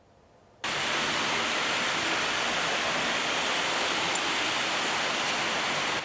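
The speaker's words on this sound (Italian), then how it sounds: "Via Marosticana diventa un fiume di fango." Heavy pouring rain drenches a street turned into a river of mud on Via Marosticana, starting abruptly after a brief quiet moment and then roaring as a loud, unbroken wash of water with no voices.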